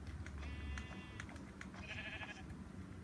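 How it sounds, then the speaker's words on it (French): Sheep in the video game Minecraft bleat twice, each a short wavering call, over a low rumbling background with faint keyboard clicks. "C'est encore un mouton"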